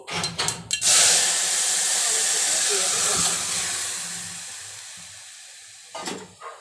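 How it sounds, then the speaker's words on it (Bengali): Mustard seeds splutter and hiss loudly in hot oil for a green mango sour dish, a dense steady crackle close by, with brief knocks of utensils at the start and end. "এটা সর্ষে ফোড়ন দিচ্ছি"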